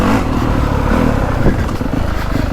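A 2025 Honda CRF450R dirt bike being ridden through the woods, its engine a loud, steady, close growl with slight rises and dips in revs throughout, and no talk.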